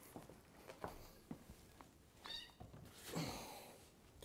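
A house cat meowing faintly indoors, with a few soft taps and footsteps before one longer, drawn-out meow near the end.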